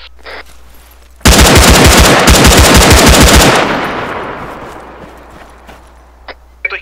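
A single long automatic burst of rapid gunfire in the video game Arma 3, loud and close, followed by a slowly fading echo and a few faint clicks afterward.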